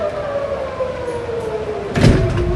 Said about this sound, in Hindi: यहाँ पे सायरन हर तरफ से बज रही है